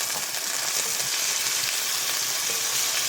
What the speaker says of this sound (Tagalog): Malapit maluto yung aking chicken.